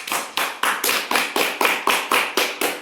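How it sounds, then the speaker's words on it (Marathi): Children in a school classroom clap together for the winner of a dice game, a rhythmic run of about ten sharp, evenly spaced claps at close range with no talking. "टाळ्या वाजवा सर्वांनी"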